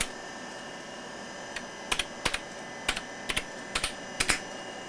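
Keys on the worn keyboard of a 1989 Fora LP-286L laptop clack in short, uneven pairs of sharp taps, close and distinct over a steady background hum, with no talking.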